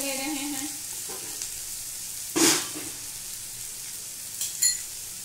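Vegetables with tomato and salt cooking in a pan over a medium flame for white sauce macaroni, a steady soft sizzle broken by a couple of sharp stirring clinks and scrapes near the middle and end.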